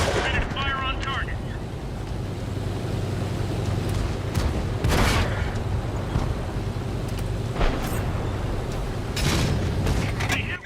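Tank guns firing in a video game: several sharp booming shots at intervals over mechanical engine rumble, with a voice talking briefly at the start.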